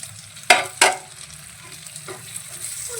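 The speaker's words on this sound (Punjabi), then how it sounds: "ਤੇ ਟਮਾਟਰ ਨੂੰ ਵੀ ਆਪਾਂ ਮਸਾਲਿਆਂ ਦੇ ਨਾਲ ਹੀ ਭੁੰਨ ਲਾਂਗੇ ਜੀ" Finely chopped tomatoes frying with salt and spices in a pan for bathua sabzi: two sharp utensil knocks early on, then a low, steady sizzle with a faint scrape later.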